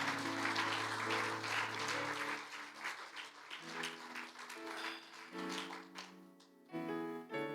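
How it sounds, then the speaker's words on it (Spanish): Rhythmic clapping from a church congregation during a sermon, loud and sustained throughout, with music-like tonal layers woven underneath. "dele palmas a mi Cristo en esta tarde"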